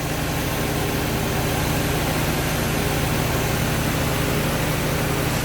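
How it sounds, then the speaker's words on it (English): An engine runs while its cooling fans spin during coolant system repair and testing. The drone is steady, dense and loud, with no change for the whole stretch and no voices. "The fans are spinning already."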